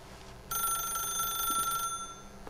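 An old-style telephone bell rings once in The Stanley Parable, a bright metallic trill that starts abruptly, holds for over a second, then cuts off against a quiet room.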